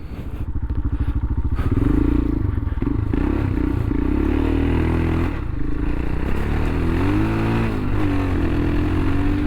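A Royal Enfield 462 Himalayan motorcycle, about 40 horsepower, revs hard off-road as its tire spins and slides. The engine is loud and close, with a steady rising and falling growl, rattles and some scraping mixed in.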